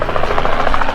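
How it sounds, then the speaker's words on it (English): A helicopter passing overhead at an outdoor car show makes a loud, steady rotor chop that fills the whole moment with no voices. "Someone arriving on a helicopter, potentially."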